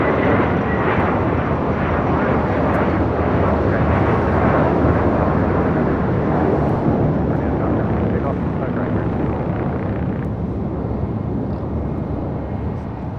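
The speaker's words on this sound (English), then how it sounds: "That American A321 taking off." American Airlines A321 taking off at LAX: a loud, steady, close jet roar with broad rushing noise throughout, dense and unbroken, fading only slightly near the end.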